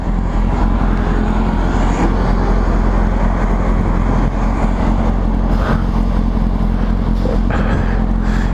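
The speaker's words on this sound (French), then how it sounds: "je suis en moto" A motorcycle ridden on the road, its engine droning loud and steady up close with wind rush and road noise, pulling along without pauses.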